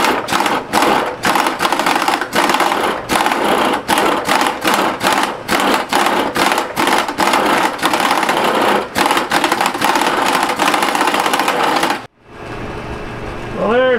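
A crusher grinds gold ore samples that give off silica dust. It makes a loud, continuous, rhythmic grinding and clattering for about twelve seconds, then cuts off abruptly into quieter rumbling.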